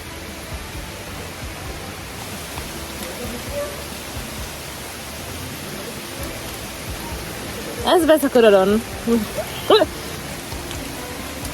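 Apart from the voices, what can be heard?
rain falling in Jamaica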